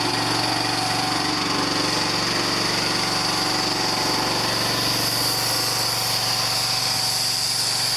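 A gas-engine pressure washer runs close and loud, its engine holding a continuous buzzing drone with a sharp high whine over a low rumble, steady throughout with no voices.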